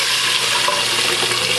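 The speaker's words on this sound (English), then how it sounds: "So we're going to start pouring these green beans in here." Canned green beans and their liquid are poured from the can into a cooking pot, a brief close splashing, watery gush with no voices.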